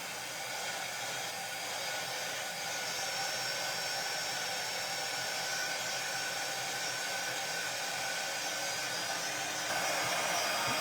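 Steady, loud whooshing roar of a hand-held heat dryer drying mixed media papers, continuous and unbroken throughout with no talking.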